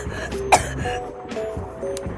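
A single short cough or throat clear, close and abrupt, standing out against a quiet indoor background with faint tonal game sounds.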